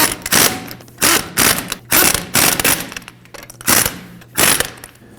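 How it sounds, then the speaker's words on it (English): A ratchet with a 21 mm socket snugs wheel nuts on a Ford F-150 in a crisscross pattern, giving loud, close bursts of rapid clicking separated by short pauses, with no talking. "We'll go ahead and snug those down in a crisscross pattern with a 21 millimeter."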